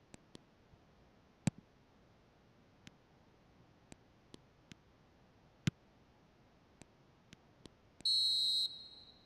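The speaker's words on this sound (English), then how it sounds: "And there goes the final whistle." A final whistle in an eFootball match sounds as a single bright, steady whistle blast lasting about a second near the end, after a run of sparse sharp clicks over a quiet background.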